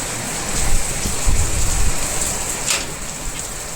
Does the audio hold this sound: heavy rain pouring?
yes